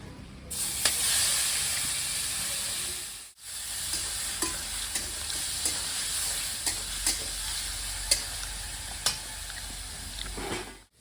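Grated onion fries with whole cinnamon, cloves, small cardamom and dry red chilli in a pan over a clay stove, a steady close hiss with a brief dip and regular spatula clicks as it is stirred.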